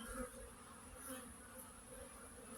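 Honeybees buzz around the hives of an autumn apiery, a soft, steady drone of many wings with a few individual insects passing closer, faint and continuous, no talking.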